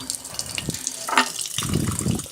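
Tap water runs in short bursts and splashes into a sink while a canary's bath dish is rinsed, close and intermittent, with brief handling clatter between flows.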